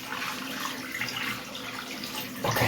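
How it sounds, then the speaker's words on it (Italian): Lukewarm water runs from a tap into a container while preparing sausage casings, a steady close splashing stream that grows slightly brighter near the end. "Acqua tiepida della fontana, vi faccio vedere, si riempie"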